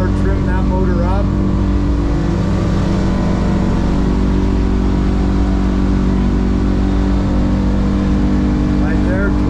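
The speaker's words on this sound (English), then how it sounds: "I'm gonna give it some more throttle. One motor now. Now I'm gonna start trimming that motor up." A 2021 North River 29 Offshore boat on the water with one outboard motor throttling up near 25 mph: a loud, steady engine roar with rushing noise, continuous and close throughout.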